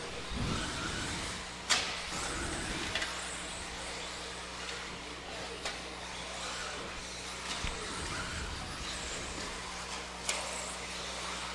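Several radio-controlled off-road race cars buzz around a dirt track in a steady, dense whine of small motors, with sharp clicks and bumps cutting through at intervals and faint crowd or announcer voices underneath.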